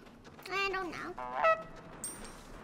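A goose in the video game Knights & Bikes gives two honks in quick succession, loud and near, followed by a brief high squeak over steady game background noise.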